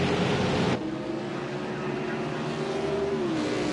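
Race car engines drone loudly on a road course at The Glen, with a steady, sustained roar whose pitch shifts as cars pass, under a broadcast voice.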